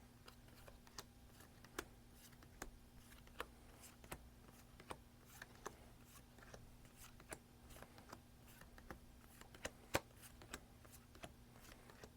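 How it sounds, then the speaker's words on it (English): Tarot cards are handled and shuffled quietly, with soft sliding and occasional sharp little snaps spaced irregularly, close by in an otherwise quiet room. "Who doesn't love the sound of these cards?"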